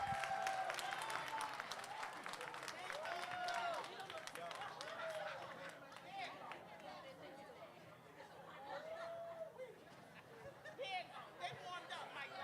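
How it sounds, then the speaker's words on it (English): Audience at a live stream event breaks into sustained applause mixed with cheering and crowd chatter. Voices shout and talk throughout, moderately loud and continuous. "A round of applause."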